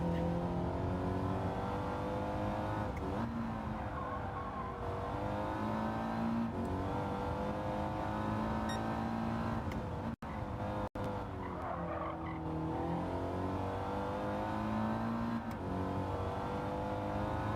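Audi TT Gr.4 race cars in Gran Turismo 7 with a constant engine drone and rising and falling revs, repeated tire squeals and skids through corners, loud and sustained.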